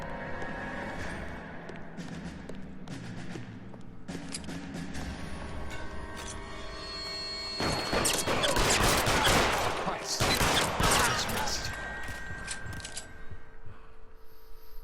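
Heavy gunfire in an L.A. Noire shootout: dense bursts of shots and rapid fusillades run throughout, growing louder and more intense toward the middle, with a voice speaking now and then.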